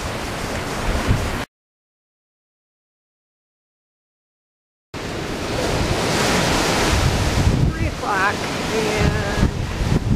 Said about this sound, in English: the wind is gusting. It's not always this strong, but right now it's blowing pretty hard.